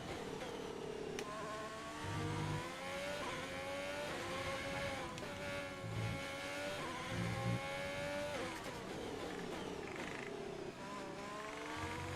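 A Formula 1 race car engine in F1 2020, on the Australia circuit, revs and screams continuously at high pitch, rising and falling through gear changes in a long, loud, close run with occasional short tire-squeal bursts.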